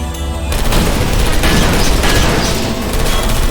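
Turrets firing in the video game Portal Stories: Mel, a dense, loud barrage of rapid gunfire and booming impacts that stays continuous throughout, without speech.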